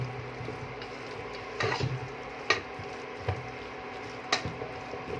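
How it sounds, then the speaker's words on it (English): 600 grams of mutton being stirred with butter in a pan for a dry fry, a faint steady sizzle under intermittent wooden scraping and knocking strokes, close and quiet, without speech. "now I'm just mixing out all the butter to be spread over your meat surface"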